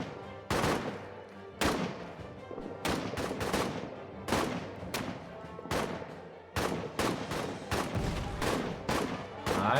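Gunfire in the trench warfare game All Quiet in the Trenches, with repeated sharp shots and bursts in irregular rhythm, loud and close, interspersed with quieter rattling between volleys.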